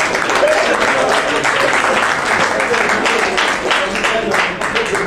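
Audience applause at an event in Abidjan, a steady dense wash of clapping filling the whole stretch with mixed crowd voices, continuous and fairly loud.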